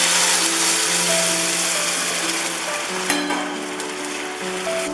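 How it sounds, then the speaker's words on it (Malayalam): Boiled hot water poured into a pan of frying rice for vegetable fried rice, setting off a loud, hissing sizzle that gradually eases and settles over a few seconds. "ഇനി നമുക്ക് ഇതിലേക്ക് നേരത്തെ നമ്മൾ തിളപ്പിച്ച് വെച്ച ചൂടുവെള്ളം ഒഴിച്ചു കൊടുക്കാം"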